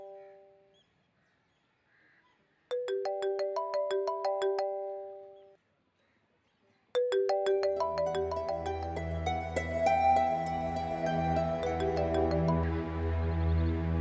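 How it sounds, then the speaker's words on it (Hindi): A bright chiming melody plays in short repeated phrases, pauses, then returns and swells as deeper musical tones join underneath. "नसरीन प्लीज मेरा फोन ले आओ, बाहर रखा है।"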